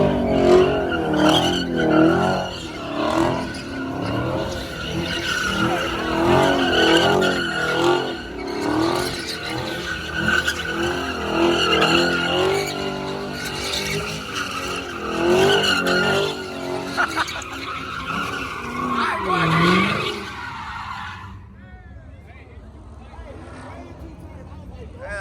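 A truck spins its tires at a local truck meet: a loud, sustained engine roar with screeching tire squeal for about twenty seconds, then easing off. Bystanders talk and shout over it.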